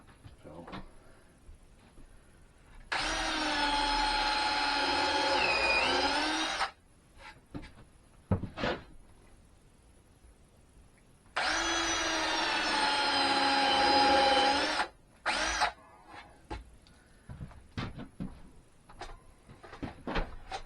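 A power drill drives screws into the wooden body of a Langstroth long beehive in two sustained whirring bursts of about four seconds each, close and loud, separated by quiet handling clicks and knocks.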